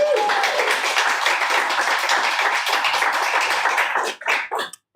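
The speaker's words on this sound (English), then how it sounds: "Please give them a round of applause" Audience applause at a poetry reading at Beyond Baroque, a full, dense burst of clapping that holds steady for several seconds before thinning into a few scattered claps and stopping.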